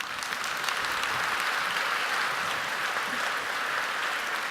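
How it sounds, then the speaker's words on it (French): Sustained audience applause at the opening of a forum, a dense, even clatter of many hands clapping steadily throughout with no voices. "cques Attali, président de Positive Planète, que je vous demande d'applaudir."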